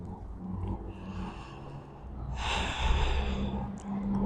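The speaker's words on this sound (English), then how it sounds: "Breathing." Slow, audible breaths during a yoga sun salutation sequence, a soft airy exhale swelling and fading with a louder rush partway through, close to the microphone with no talking.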